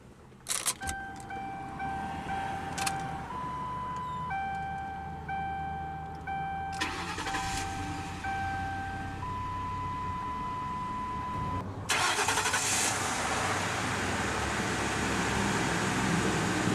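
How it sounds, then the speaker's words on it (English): A 2006 Lincoln Town Car Signature Limited starts up, with chimes and a cranking burst leading into a steady idle hum that swells louder after the engine catches. "let's go ahead and start the engine"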